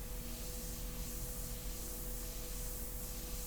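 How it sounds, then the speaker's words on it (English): An airbrush sprays India ink onto paper in a short test burst, a steady soft airy hiss that holds even and unbroken from start to end, close and alone. "after we reload the airbrush, we always test it first"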